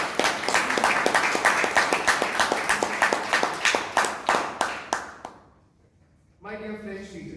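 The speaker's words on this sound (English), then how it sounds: "A huge round of applause for this." An audience at a Toastmasters meeting in Bangalore claps in a steady burst of rapid, close applause that fades out, followed by a voice speaking.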